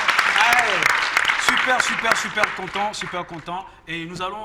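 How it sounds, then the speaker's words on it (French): Audience applause on a French television variety show, clapping running beneath a presenter's voice, which dominates and carries on talking as the clapping fades. "Applaudissements"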